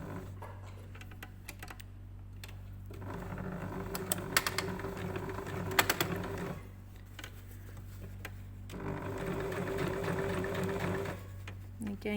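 A sewing machine top stitches a corset seam, running in two sustained bursts of fast, even stitching with brief pauses and light clicks between, heard close up.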